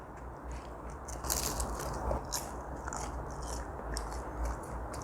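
Close bites and crunching into a Pizza Hut crispy potato pizza with thin pastry-like dough, a series of crisp cracks and crackles over soft chewing, loud and near, with no talk.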